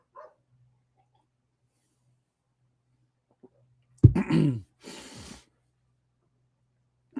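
A dog gives a short burst of barks midway through an otherwise quiet outdoor stretch, fairly close, with a few faint sounds before and after.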